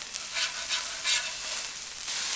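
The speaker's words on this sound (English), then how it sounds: "before I do the eggs, I'm gonna flip my burgers." Smash burgers sizzle on a Pit Boss five-burner griddle as they are flipped, a steady close hiss with a few brief scraping bursts and no talk.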